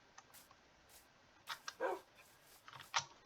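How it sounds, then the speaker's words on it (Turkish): A few sharp dog barks and yips from a dog in the video game Minecraft sound in short bursts against a quiet background, with faint high clicks in between. "Bak havlama sesi mesela."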